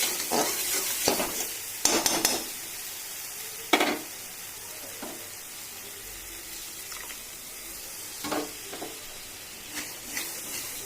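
Yogurt going into hot oil in a frying pan while cooking doi potol, a close sizzle with clattering stirs and spoon knocks early on, then a quieter hiss with occasional taps, no speech.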